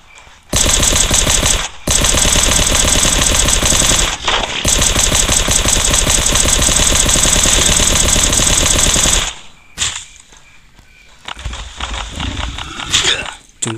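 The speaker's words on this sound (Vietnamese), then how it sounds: "Ok, bắn bơm." Pump shotgun gunfire in the survival game Last Day on Earth: Survival, loud dense rapid bursts of shots running for several seconds with brief gaps, then dropping to quieter game sounds.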